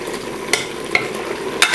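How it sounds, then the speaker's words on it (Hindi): Beef frying in oil for Bannu pulao sizzles loudly and steadily up close, with three sharp scraping stirs of a spoon against the pot. "तो इसकी ऐसी भुनाई करनी है कि ये बिल्कुल जबरदस्त तेल पे आ जाए।"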